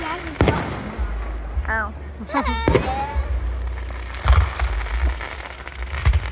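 Fireworks go off outdoors over a town, with a few sharp, booming bursts spaced a second or two apart amid crackling. Nearby voices talk and exclaim between the blasts.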